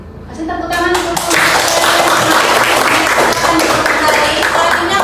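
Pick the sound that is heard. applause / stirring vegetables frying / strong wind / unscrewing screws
applause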